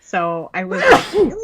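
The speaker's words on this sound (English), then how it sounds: "See, that's my COVID sneeze." A single close sneeze with a drawn-in, voiced buildup bursts out amid casual talk, followed by a brief exhale.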